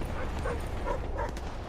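Dogs in a video game bark and yip in short repeated bursts under steady game background noise, fairly close and moderately loud.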